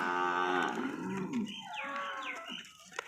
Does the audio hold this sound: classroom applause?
no